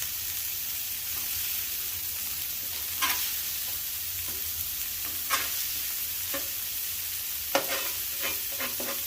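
Cheeseburger patties sizzle on a hot flat top in a steady, bright hiss, broken by a few sharp scraping spatula strokes at irregular intervals, close and with no voices.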